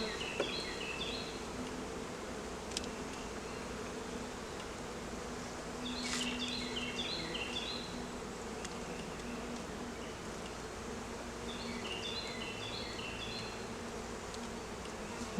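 Honeybees buzz steadily around an open hive during a brood box swap, a continuous close droning hum with occasional louder passes from individual bees and faint handling noises.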